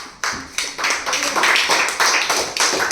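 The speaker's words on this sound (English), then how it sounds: "Yes, so let's clap." Grade 7 students in a classroom clap together in a heat-transfer demonstration, a series of sharp, rhythmic claps that grow denser and steadier, close and fairly loud, with occasional voices.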